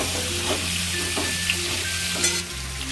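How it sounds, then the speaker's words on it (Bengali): Potatoes fry in hot oil with turmeric, crackling in a steady sizzle while a utensil stirs them now and then, close and fairly loud, with no talking. "এবারে আলুগুলো একটু বেশ লাল লাল করে ভেজে নেব।"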